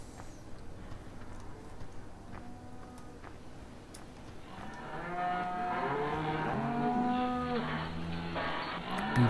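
Beef cows in Farming Simulator 2015 moo in long, low, drawn-out calls that overlap, moderately close over a soft background with faint ticking.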